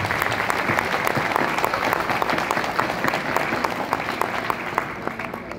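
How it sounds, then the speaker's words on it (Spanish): An audience applauds workers at a gathering, a steady patter of many hands clapping throughout, fairly close, with faint crowd murmur underneath. "quiero pedir un aplauso para todas y todos ustedes"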